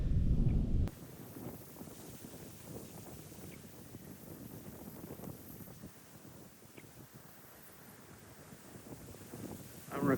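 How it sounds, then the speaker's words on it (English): Wind buffets an iPhone microphone outdoors at Blue Mounds State Park in Minnesota, a steady rumbling roar that bursts loudest at the start and swells again near the end, with faint rustling throughout. "I'm recording this a little bit on my iPhone, so the wind's probably pretty brutal right now."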